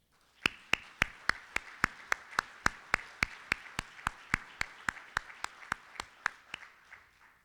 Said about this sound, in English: Let's applaud Vicki and Laurel, the 9 2022 nominees, the 2021 nominees and awardees